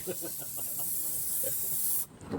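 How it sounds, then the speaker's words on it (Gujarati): A continuous aerosol spray hisses for about two seconds onto a cow's sore leg, bright and close, then cuts off abruptly, followed by a brief faint voice. "સ્પ્રે મારી દે મસ્ત મજાનો"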